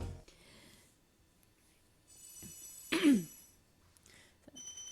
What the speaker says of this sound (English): Sorry about the clearing of my throat there.